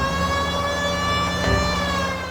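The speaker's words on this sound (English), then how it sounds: "Damn right, we have the alarm on. We have the siren going." A police car siren wails steadily in LA Noire, a sustained, loud, harmonic-rich tone that holds throughout with a slight swell near the middle, no voices over it.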